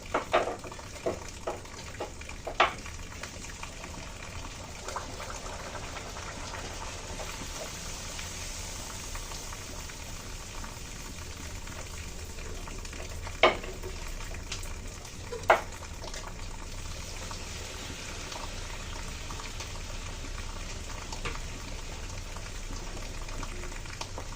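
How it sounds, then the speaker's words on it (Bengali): Rolled luchi, thin wheat flatbreads, fry in hot oil in a kadai. A steady bubbling sizzle carries on throughout, with a few sharp pops and crackles standing out. "কড়াইতে তেল দিয়েছি, তেল গরম হয়ে গেছে,"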